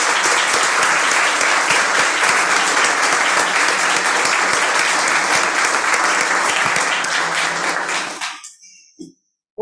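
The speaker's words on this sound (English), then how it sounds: "Let's give her a round of applause." A room of attendees at an Everett Public Schools board meeting applauds loudly. The sustained, crowded clapping runs for about eight seconds, then thins quickly to silence with a few stray claps at the end.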